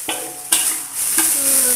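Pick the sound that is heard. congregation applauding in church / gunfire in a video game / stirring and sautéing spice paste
stirring and sautéing spice paste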